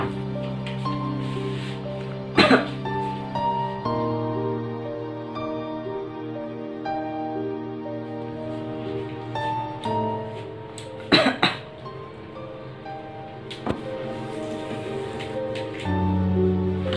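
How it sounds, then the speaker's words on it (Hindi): A man coughing in a short drama scene, several sharp, scattered coughs spread across a long stretch, heard over background music and room noise. "बस थोड़ी सी खांसी आ रही है"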